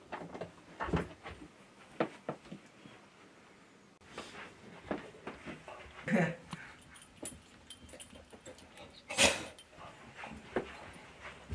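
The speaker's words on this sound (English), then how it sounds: "Out here. That's my dog." A dog whimpering and panting in short, scattered bursts, fairly faint and close, with some louder yips and rustling among them and quiet human talk mixed in.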